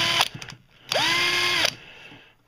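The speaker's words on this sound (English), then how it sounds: "knocking the pins out using a 3/32 drill bit, just ever so slightly" A power drill fitted with a 3/32 drill bit slightly enlarges a pin hole on a jet boat part, giving a few short revs and then one sustained whine of about a second that winds down.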